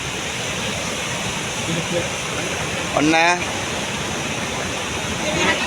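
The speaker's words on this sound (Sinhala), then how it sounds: "ඔන්න බලා ගන්න ගඟ එනවා විජේරියේ" A river in rainy season floods suddenly and fills its bed near homes, a broad steady rushing roar of water. A man calls out briefly over it midway.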